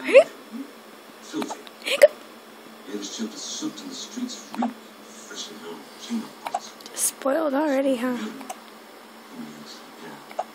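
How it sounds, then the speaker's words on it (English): Several hiccups come from a baby, sharp and close, scattered among soft rustles and clicks, with a longer voiced cry-like stretch in the middle of the clip. "Hiccup."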